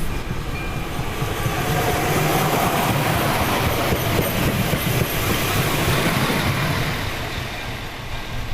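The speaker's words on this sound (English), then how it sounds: "watch one of not very many trains passing through the tiny station here in Holešov" A train rumbles steadily past at close range through a tiny station in Holešov, a continuous roar of wheels on rails with no voices.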